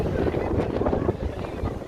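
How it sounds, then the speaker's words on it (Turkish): Steady wind buffets the microphone with a low, rumbling roar on Liberty Island, and faint voices of a crowd are barely audible underneath. "Hafif rüzgarlı ama güzel bir gün."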